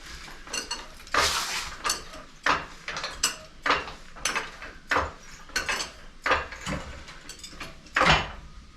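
Car jack raising a vehicle fitted with a 4-link airbag suspension, giving a steady series of sharp metallic clicks and ratcheting clanks in an irregular rhythm, close and fairly loud, with no talking.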